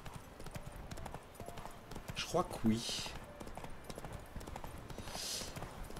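Horse hooves clip-clop at a steady trot in the video game The Witcher 3: Wild Hunt under a man's quiet speech, with occasional faint whooshes in the background.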